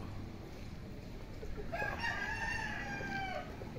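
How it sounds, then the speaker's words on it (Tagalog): A rooster crows once in Laguna, Philippines, a drawn-out cock-a-doodle-doo over faint background noise, fairly close by. "Yan mga manok dito sa amin sa Laguna."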